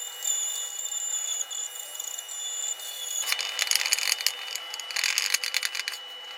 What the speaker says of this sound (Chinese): 固定好以后，打磨出嘴壳子的形状。